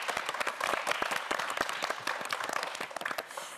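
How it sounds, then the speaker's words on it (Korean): Studio audience applauding a student on a televised quiz show: a moderate crowd clapping with distinct, sharp individual claps, fairly even and sustained, fading near the end. "다시 한번 큰 박수"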